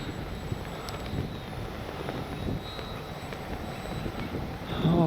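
Strong wind buffets the microphone at an RC plane flying field, a steady rumbling gust noise with a faint model-aircraft engine whine drifting in the distance.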